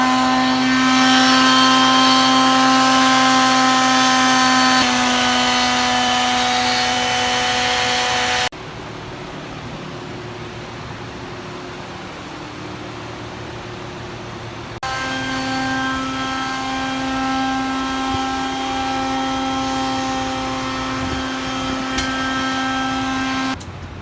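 A 60-grit flat sanding disc on a power tool grinds across hickory wood shelves, a loud steady whine that cuts off midway to a quieter lull before the tool spins back up at full volume.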